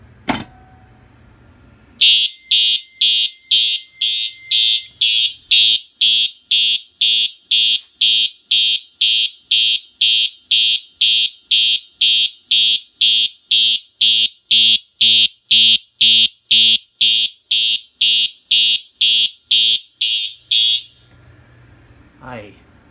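A loud fire alarm horn blasts in a rapid, steady series of harsh pulses for many seconds, then stops.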